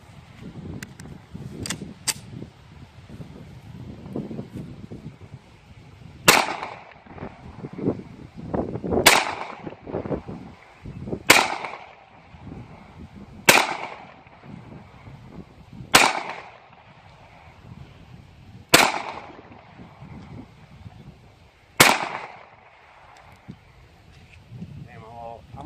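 Sharp, loud single shots from a Ruger SR1911 .45 ACP pistol at an outdoor range, fired at slow, fairly even intervals with ringing decays. Quieter shots from another shooter and talk sit between them.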